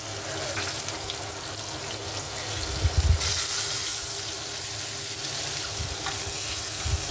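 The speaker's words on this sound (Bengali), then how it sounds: "পেঁয়াজটা একটু ভাজা হোক" Chopped onions frying in oil in a kadai (wok) for a fish head and bottle gourd dish, a steady broadband hiss lasting throughout with a brief louder burst near the middle.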